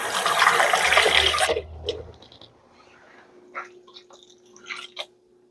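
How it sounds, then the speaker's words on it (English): Water pours loudly and steadily into a pot for about a second and a half while making groundcherry jam with sugar, then cuts off, leaving faint kitchen clinks and a low hum. "I'm gonna put some water in this."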